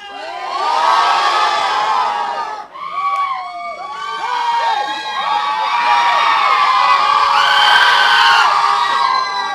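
A large crowd at a tech conference event yells and cheers at full volume during a shouting game, sustained and loud with children's and adults' screams blending together, briefly dipping before surging again.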